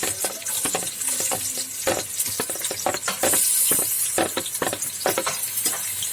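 Onions sizzle and crackle steadily in a hot pan, with a spoon scraping and stirring through the frying.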